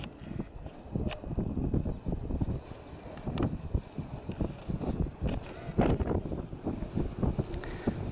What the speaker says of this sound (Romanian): Bate vântul foarte tare.